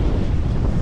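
Wind roars and buffets hard against the microphone aboard the Sea Pearl sailing near Antigua and Barbuda in about 13 knots of breeze, a loud, constant rushing blast with no break.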